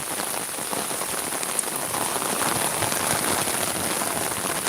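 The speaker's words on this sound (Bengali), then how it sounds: "খুব বৃষ্টি" Heavy rain pours steadily over a flooded village area, a dense continuous hiss of drops striking surfaces at close range with no voices.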